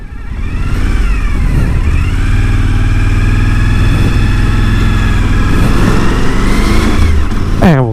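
A Suzuki V-Strom 1000 motorcycle engine hums loud and close through a slow U-turn in a small town, its pitch dipping and rising gently with throttle, accompanied by wind rumble.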